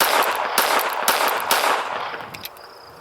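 Pistol shots from a Smith & Wesson Bodyguard .380 firing Tula ammunition at a range, several sharp loud cracks in quick succession with ringing echo trailing off, then quieter clinks at the end.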